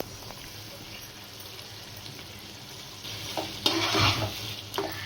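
Chicken cooking in an open pot for satti soru after the lid comes off: a quiet, even bubbling sizzle that grows louder with bursts of stirring and scraping near the end.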